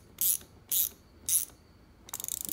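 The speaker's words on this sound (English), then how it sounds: "wrench and tighten it up as well" Wrench ratcheting to tighten an aluminum steam port barb fitting on an LS engine crossover: three short, close ratchet bursts, then a quicker run of rapid clicks.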